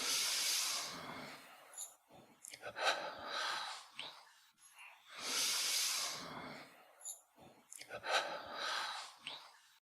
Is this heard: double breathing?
yes